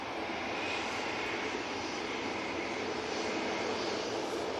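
An easyJet airliner sits on the runway at Manchester with a Ryanair jet lined up behind, their engines giving a steady, moderately distant rumbling roar and no one speaking.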